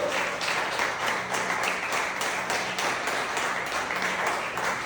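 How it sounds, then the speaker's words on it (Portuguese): A church congregation applauding during an evening sermon, with dense, continuous clapping and a faint tonal hum beneath it. "Você pode aplaudir nessa noite?"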